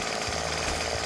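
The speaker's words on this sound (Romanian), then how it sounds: "Adică am îți rupe urechile drujba aia." A chainsaw in 7 Days to Die roars close and loud in a harsh, continuous buzzing drone with a rough, rattling grind, heard alone for about a second.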